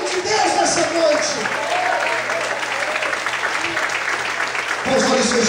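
A church congregation applauds during an evening service, with loud continuous clapping throughout and a preacher's voice speaking over it.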